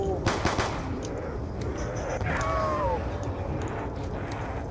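Ray gun firing in a zombies video game, quick repeated electronic shots with warbling zaps over a busy game background, fairly close and steady throughout.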